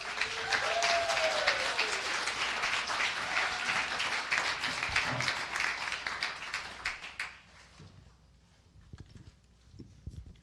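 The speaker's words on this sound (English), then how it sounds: "another round of applause to Team TechType" Sustained audience applause at a tech fellowship demo day greets a startup team, a dense steady wash of clapping for about seven seconds before fading to a few scattered claps.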